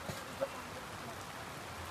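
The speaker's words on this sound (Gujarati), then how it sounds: "જો અત્યારે ફૂલ વરસાદ પડી રહ્યો છે" Heavy rain pours steadily in Vadodara, a soft, even wash of drops that is fairly faint and continuous, with no voices.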